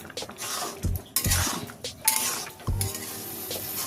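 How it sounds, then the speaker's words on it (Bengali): Carrot halwa thickening in a pan as a spoon stirs and scrapes, with several knocks and clinks against the metal over a soft sizzle, close and without talking. "একটু বেশি ঘন ঘন নাড়তে হবে যাতে করে তোলায় না লেগে যায়"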